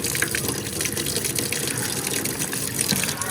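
Spring water running steadily from an outdoor tap at the Grand Canyon rim, a continuous close splashing gush with wind noise mixed in and no talk.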